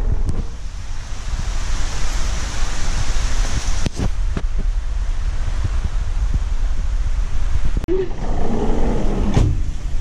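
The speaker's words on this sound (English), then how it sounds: "raining. Oh my gosh." Rain lashes a moving car, heard from inside the cabin as a steady, dense roar of road and wind noise with occasional sharp thumps, growing patchier toward the end.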